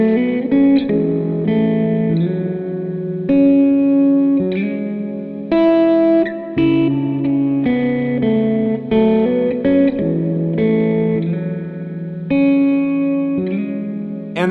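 Electric guitar played through a JET Revelation ambient reverb pedal, sustained chords and single notes blooming into a wide, washy reverb tail, steady and fairly loud with no talking.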